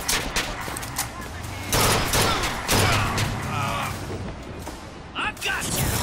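Gunfire in the video game BioShock Infinite, bursts of shots and impacts with a loud barrage around the two-second mark, mixed under frequent talk and game effects.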